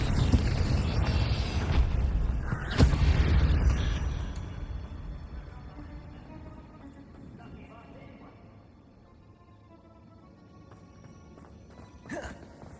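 Spell blasts from Incendio and Confringo in the Hogwarts Legacy video game, a loud fiery burst with a sharp crack near the start, then a fading rumble and a later brief impact amid game ambience.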